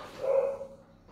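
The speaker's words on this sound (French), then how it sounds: "mes chiens de dehors aboient" A single short bark from a dog kept outdoors, loud and somewhat muffled, fading into quiet.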